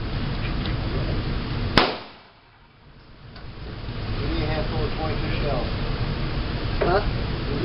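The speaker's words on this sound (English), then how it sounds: "You want to shoot the 30-30?" A single sharp 30-30 rifle shot at an outdoor gun range, loud and close, followed by a brief dip in the background and then ambient range noise returning.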